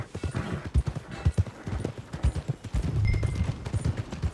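Horse hooves clip-clopping in the Red Dead Redemption 2 video game, a steady rhythmic trot of close, thudding hoofbeats continuing throughout without pause.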